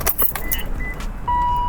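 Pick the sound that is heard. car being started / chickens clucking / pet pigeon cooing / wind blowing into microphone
car being started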